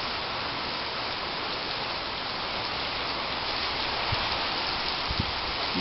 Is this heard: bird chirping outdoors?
no